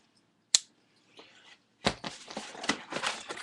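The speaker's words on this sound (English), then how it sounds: "Hopefully I don't cut myself with this newly sharpened Cricut knife." A newly sharpened Cricut knife slicing into an older cardboard sneaker box, a sharp snap followed by a short scrape, then a run of quick rasping cuts close to the mic in a quiet room.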